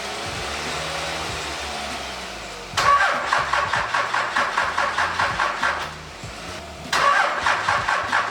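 A 24-valve Cummins diesel cranks over with a rapid, rhythmic chugging of the starter after a quiet lead-in, pauses briefly, then cranks again, loud and close.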